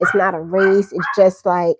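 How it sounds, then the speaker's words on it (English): Dogs yip and bark close by, mixed in with a person talking over them. "sorry about my dogs."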